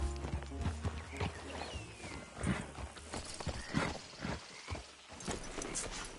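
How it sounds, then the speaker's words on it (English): A horse whinnies and clip-clops in Red Dead Redemption 2 after a race, hooves thudding irregularly while several neighs and snorts rise over them, fairly quiet and unaccompanied by talk. "Damn horse acting up on me, of all the times."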